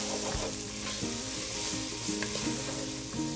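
Half a large onion and a lot of vegetables sizzle steadily in a frying pan as they are stirred around, with scraping and clatter from the stirring over a continuous frying hiss, close and alone without talk.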